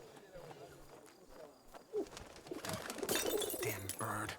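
Pigeon cooing in the video game 11-11: Memories Retold, a few short soft coos amid game ambience and clatter while someone talks over it.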